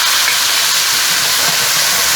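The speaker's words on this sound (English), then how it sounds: "You're going to have good frying action there, and it already starts to pick up all the stuff that's stuck to your pot" Sofrito sizzling loudly as it hits a hot pot beside browned rib tips for arroz con gandules, a dense, steady frying hiss that holds throughout.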